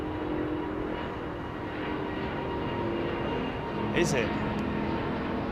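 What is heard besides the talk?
Finnair Airbus A350 climbing overhead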